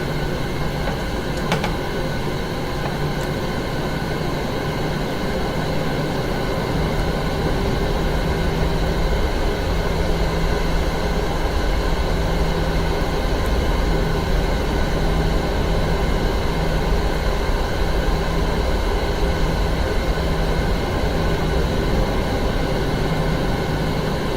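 Airliner taxiing out in the Prepar3D flight simulator, a steady loud cabin-like engine drone and whine with constant broadband hiss and a faint low hum, unchanging and with no talking.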